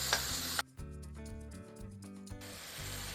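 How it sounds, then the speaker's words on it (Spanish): Ground meat sizzles in a pan as a spoon breaks it up and stirs, soft scraping and frying hiss with a brief pause, close and quiet with no talking. "Ahora vamos separando esto con la cuchara y lo vamos cocinando hasta que vaya cambiando de color."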